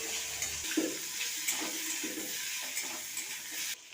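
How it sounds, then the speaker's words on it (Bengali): Diced papaya hits hot oil in a pan with black cumin seeds, giving a soft, steady sizzle and frying hiss with occasional stirring scrapes, faint and close with no talking. "এবার পেঁপেটাকে দিয়ে দেবো পেঁপেটাকে এইভাবে ভেজে নেব"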